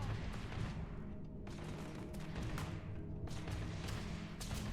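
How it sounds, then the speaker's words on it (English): Gunfire in a Starfield firefight, rapid bursts of distant shots crackling over a low background rumble, fairly faint throughout. "Yep, they're shooting at Barrett."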